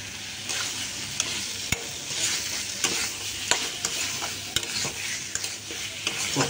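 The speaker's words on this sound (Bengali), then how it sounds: "ভাজা সয়াবিনটি ঢেলে দেব।" Fried soybean chunks are tipped into sizzling spice masala in a pan and stirred, with sharp scraping clicks and knocks of the spatula recurring over a continuous close frying hiss.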